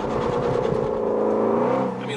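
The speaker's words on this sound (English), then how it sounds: "I'm going to do a hard launch right here." Shelby GT350 on winter tires launching hard in below-freezing conditions, its engine roaring loud and close as revs climb steadily, then easing near the end.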